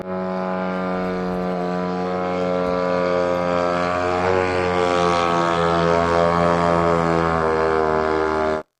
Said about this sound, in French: il continue d'apparaître des images comme celle-ci, où l'on peut voir, un de ces drones.